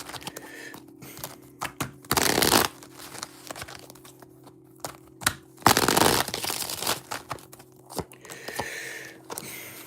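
Tarot cards shuffled by hand during a reading, giving two loud bursts of papery riffling and crinkling close by, with quieter card handling and faint background tones in between.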